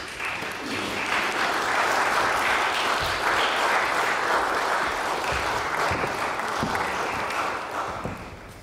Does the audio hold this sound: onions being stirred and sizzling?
no